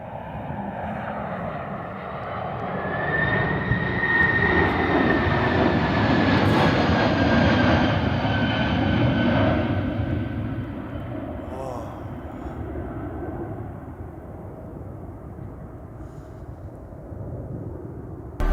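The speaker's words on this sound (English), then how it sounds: "A FedEx 767 makes a late go-round after finding the runway blocked." A FedEx Boeing 767 jet makes a late go-around over a blocked runway, its broad engine roar swelling steadily to a loud peak midway, then slowly fading while staying strong in the distance.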